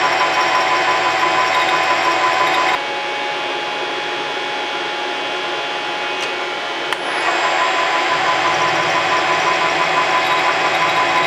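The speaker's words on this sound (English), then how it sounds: "I can go a little faster with this because it's a heavier duty bit than the little 1/8 inch" A heavier-duty drill bit bores through a steel FAL rifle gas block, giving a steady, loud whirring hum that softens partway through the cut, then rises again toward the end, with no talking.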